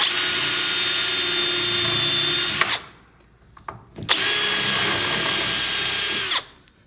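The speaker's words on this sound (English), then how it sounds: "Pre-drill those holes." A power drill with a centering bit whines in two steady bursts pre-drilling screw holes in a garden shed door, each a few seconds long and separated by a short pause with faint handling noises.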